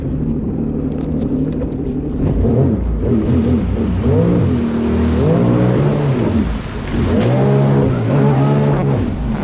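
Sea-Doo Spark jet ski fitted with a Solas 12/14 impeller and stainless steel wear ring, engine revving loudly and rising in pitch as it accelerates hard into a wheelie, several surging throttle pulls close up with no talk.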